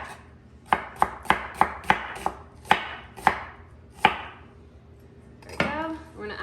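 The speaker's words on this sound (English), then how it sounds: "I'm gonna go and do a V cut around the core and remove that. And then we're gonna slice that as well." Knife slicing through half an onion on a cutting board, about ten crisp close knocks in a steady rhythm, then a softer scraping rustle near the end.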